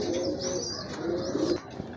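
Pigeons, including a pair of long-bodied white Baghdadi homers, cooing nearby in soft, throaty rolling calls with light chirps, and nobody talking.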